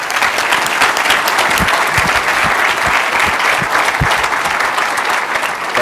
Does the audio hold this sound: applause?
yes